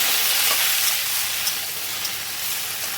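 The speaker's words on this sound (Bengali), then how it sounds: "দেখো ঢ্যাঁড়সটাকে একটু লাল করে ভেজে নেবো" Okra fries in hot oil in a pan for an okra-and-poppy-seed dish, giving a loud, close, continuous sizzle with soft stirring scrapes.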